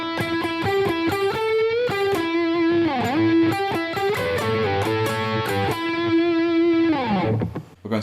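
A heavily distorted electric guitar plays the riff of a song, loud and continuous with sustained, bending notes, then it cuts off abruptly near the end.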